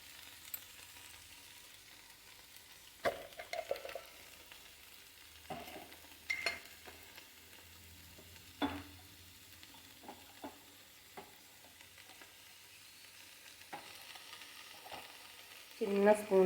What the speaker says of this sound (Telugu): ఉల్లిపాయ పచ్చిమిర్చి ముక్కలు వేగుతున్నాయి, కొంచెం వేగాలి.